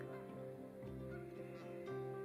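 Geese resting in a grassy meadow honk in a faint, distant chorus of overlapping calls over steady outdoor background noise.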